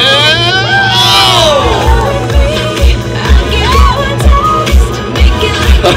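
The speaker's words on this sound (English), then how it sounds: "Big round of applause for Jennifer Currie of Bill Currie Ford" A crowd cheers and shouts with whoops and scattered voices at an outdoor dunk-tank style event, a loud, dense mix with children shouting and rhythmic low thumps underneath.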